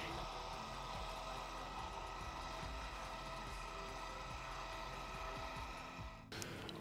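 Motorized louvers on a Vortex pergola open and close by remote control, producing a steady, even mechanical motor hum that runs without a break and stops with a sharp click near the end, followed by a brief word from a voice.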